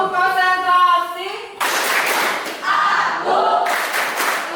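A classroom group chants in unison, then breaks into sharp bursts of rhythmic clapping in a tepuk konsentrasi clapping chant, the claps arriving in a few clustered rounds after the sung voices.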